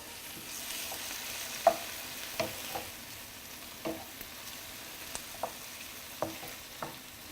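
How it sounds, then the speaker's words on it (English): Tomatoes and egg fry in a pan with a soft, low sizzle while the back of a spoon mashes them, making repeated scraping taps every half second or so. "So I'm just using the back of the spoon to just mush the tomatoes a little bit."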